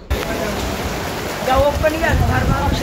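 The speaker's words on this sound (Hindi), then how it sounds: "ये देखिए कितनी बारिश हो रही है" Heavy rain pours steadily in Ujjain, a dense, loud hiss that swells midway, while a voice talks over it in spots.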